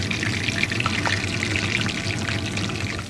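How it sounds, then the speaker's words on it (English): Crawfish egg rolls shallow-frying in oil in a cast iron pan, giving a steady, close, dense crackle and bubbling hiss that holds evenly throughout and tapers slightly at the end. "now let's fry these up."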